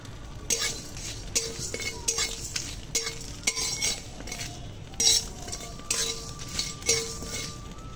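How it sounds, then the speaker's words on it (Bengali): Dry red chillies with fennel, fenugreek, nigella, radhuni and cumin seeds being stirred in a wok over a stove, with repeated scraping strokes and metallic clinks of the spatula against the pan, a faint sizzle underneath, close and steady. "উনুন ধরিয়ে দিয়েছি আর দিয়েছি কড়াই দুটো শুকনো লঙ্কা"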